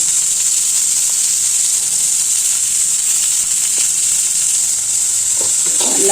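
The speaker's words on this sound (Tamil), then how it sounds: "கடுகு உளுத்தம்பருப்பு, வெங்காயம், தக்காளி எல்லாம் போட்டு வதக்கிடுவோம்" Mustard seeds, urad dal, onion and tomato sauté in a pan for an egg kuzhambu, giving a steady, loud sizzle that runs unbroken throughout, with faint stirring clinks near the end.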